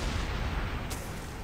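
A cannon fires in the video game Dead Rising 3: one sharp blast sits within a dense, loud wash of noisy game sound, with no talking.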